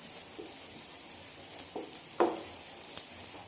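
Onion masala with turmeric and chili powder sautéing in a pan for an egg roast, a soft steady sizzle with a few brief stirring scrapes, one louder spatula stroke in the middle.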